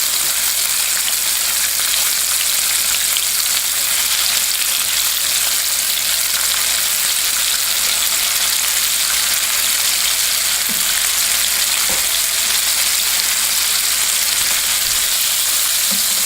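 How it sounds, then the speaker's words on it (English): Shallow frying in hot oil for a po boy, a loud, dense, continuous sizzle that holds steady throughout, close up, with a couple of faint clicks and no talking. "I'm doing a shallow fry here."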